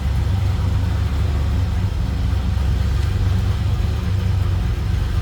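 A 1966 Chevrolet El Camino with a 283 V8 idles steadily, a loud, even low rumble with no talking.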